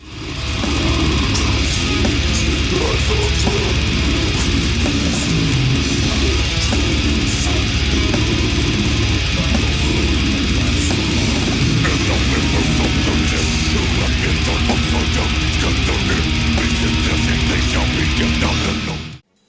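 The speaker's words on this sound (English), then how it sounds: "It's like this very fast tremolo riff." A loud, dense, heavily distorted guitar riff from a death metal song, played with rapid tremolo picking, churning steadily without a break.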